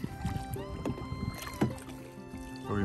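A paddle strokes through water as a small boat moves along a flooded train tunnel, first flooded in 1948, with close, irregular splashes and drips and a faint breeze in the background.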